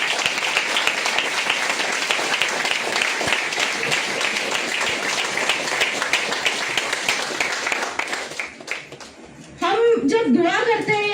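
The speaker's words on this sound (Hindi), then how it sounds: "प्लीज उनके लिए एक जोरदार ताली हो जाए।" Enthusiastic audience applause at a health seminar, dense clapping that runs loud for about eight seconds, fades out, then gives way to a speaker's voice.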